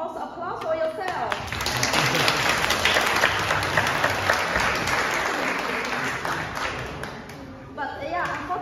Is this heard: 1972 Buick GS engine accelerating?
no